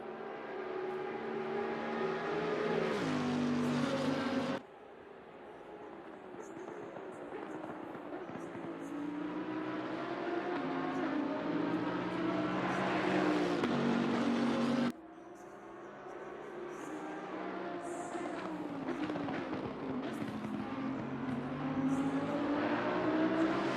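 GT3 race car engines, including a Lamborghini, scream at high revs around Bathurst in Assetto Corsa Competizione, with rising gear-by-gear pitch sweeps and two abrupt cuts as the sound shifts between cars.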